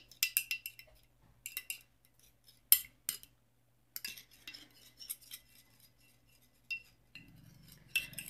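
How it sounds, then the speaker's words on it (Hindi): Egg being whisked in a bowl for a homemade hair remedy, heard as quiet, irregular bursts of utensil clinks and scraping against the bowl, separated by short pauses. "जो हमारा एग है आप उसको अच्छी तरीके से मिक्स कर लें जिससे कि ये इक्वली मिक्स हो जाए"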